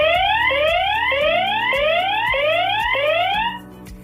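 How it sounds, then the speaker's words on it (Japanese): A loud electronic siren from a budget home security camera wails in repeated rising sweeps, about seven cycles, steady and close, then cutting off abruptly near the end. "こういうふうにサイレンも流せるようですね"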